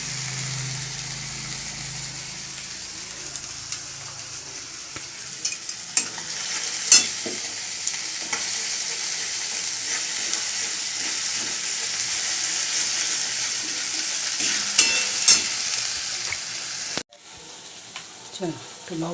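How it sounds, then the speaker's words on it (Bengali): Raw banana peel paste frying in hot oil with a little turmeric, a loud continuous sizzle broken by repeated scraping stirs and clinks, then cutting to a quieter tail at the end. "দেখো পেস্ট করে নিয়ে এসেছি, এটা তেলের মধ্যে দিয়ে দেবো"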